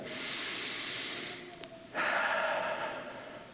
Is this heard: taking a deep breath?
yes